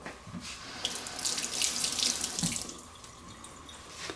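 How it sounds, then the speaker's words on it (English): Pepper seeds are rinsed out under a running kitchen sink faucet, a steady hiss of splashing water that swells in the middle and then eases off, with no talking. "And then I'm just going to rinse these seeds out."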